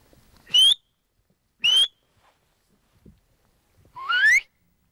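Three rising human whistles ring out in turn on the empty Siberian plains, the first two short and clear, the third longer and more distant-sounding, answering from afar, with quiet pauses between them.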